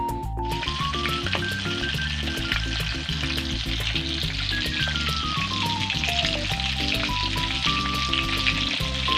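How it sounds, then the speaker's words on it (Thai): Mushroom naem, a fermented mushroom sausage, frying in hot oil with a steady, loud sizzle throughout while a melodic tune plays over it. "แล้วเดี๋ยวยายชิมจะลองทอดกัน ก็พร้อมแล้วนะคะที่จะทอดนะคะ ตั้งน้ำมันเรียบร้อยนะคะ"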